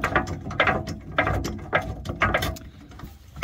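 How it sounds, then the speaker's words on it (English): A torque wrench with a 15/16 socket unscrews a bolt on a gooseneck adapter hitch in a 2005 Silverado, giving close, loud bursts of rapid ratchet clicking in several uneven strokes. "So I went and grabbed a 15/16 and my torque wrench, and I'm going to unscrew this one"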